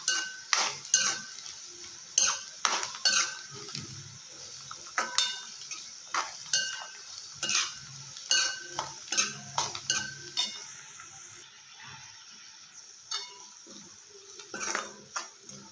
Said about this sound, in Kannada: ಚೆನ್ನಾಗಿ ಮಿಕ್ಸ್ ಮಾಡ್ಕೊಳ್ಳಿ.